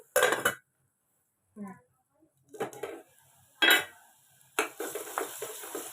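Onions stirring in a lidded frying pan for a mushroom curry, heard as a few separate bursts of scraping and clattering from a utensil, with short quiet gaps between them and faint sizzling underneath.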